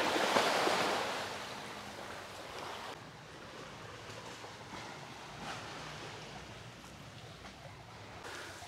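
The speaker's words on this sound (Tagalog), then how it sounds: "yung mga hampas po ng alon" Waves crash and wash against breakwater rocks along a shore, a loud surge at the start easing into a steady rushing hiss with some wind noise and no voices.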